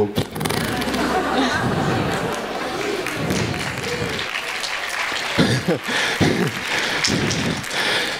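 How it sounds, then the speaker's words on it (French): Applause from an audience at the Amen-Toi Christian festival mixes with crowd chatter, clapping rising and falling while voices speak over it near the end. "mais vous applaudissez"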